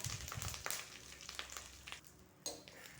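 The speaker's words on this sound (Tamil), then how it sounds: "கருவேப்பிலை நல்ல கலர் மாறி மொறுமொறுப்பு ஆகிற வரைக்கும் வறுத்து எடுத்துக்கோங்க" Curry leaves crisping in a small amount of oil give a soft, steady sizzle with crackly bursts, broken by a louder pop near the end, close and without any talk.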